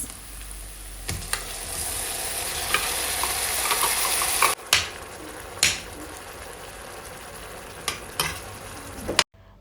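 Onion and canned meat frying in a pan with a continuous sizzle, broken by several loud scraping and clanking stirs of a utensil against metal; no one speaks.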